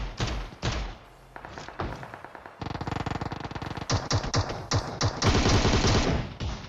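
Loud gunfire in the PUBG Mobile shooter game: rapid automatic bursts and heavy thudding shots, including shotgun blasts, come in dense volleys, with brief gaps between them.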